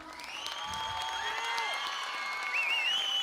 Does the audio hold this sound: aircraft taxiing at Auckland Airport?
no